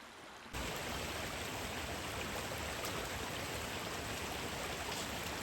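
A small stream of runoff water rushes steadily away toward the ocean, a dense, even hiss of flowing water that starts abruptly and holds constant, close and fairly loud, with no voices.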